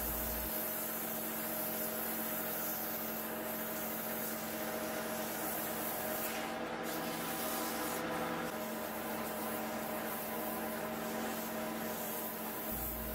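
Continuous sandpaper rubbing against a wooden pepper mill spinning on a lathe, a steady abrasive hiss over a low motor hum, unbroken throughout.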